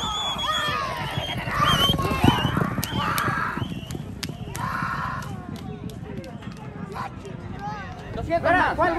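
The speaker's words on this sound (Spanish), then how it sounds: "¡Vinieron los caballos, señores y señores!" Racehorses arriving at a Mexican horse race, with hoof and animal sounds beneath an excited announcer calling loudly over a lively crowd, sharp bursts and whistles scattered throughout.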